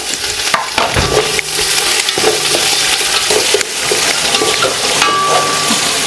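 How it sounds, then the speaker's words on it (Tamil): Onions and green chillies fry in a pan with spices, giving a loud close sizzle with irregular clatters and scrapes as they are stirred, and no voices. "பூ பட்டை எல்லாம் போட்டாச்சு வெங்காயம் தள்ளிக்கலாம் அப்புறம் பச்சை மிளகா"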